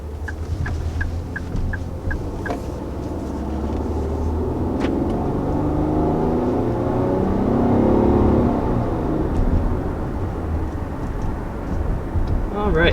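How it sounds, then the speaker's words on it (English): A 2020 Infiniti QX60 launches from a stop, its engine note building and swelling through the middle of the pull before easing off; someone talks over the acceleration. "first launching off in the 2020 Infiniti QX60"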